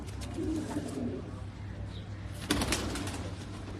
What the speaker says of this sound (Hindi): माशाल्लाह बहुत अच्छे कबूतर हैं उनके